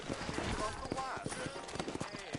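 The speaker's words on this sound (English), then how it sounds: "You ain't gonna find sturdier horses than these in all of New Albany." Horse hooves clip-clop in Red Dead Redemption, a rhythmic train of hoofbeats from sturdy horses in a frontier town, steady and fairly close under a busy game soundscape with voices and ambient noise.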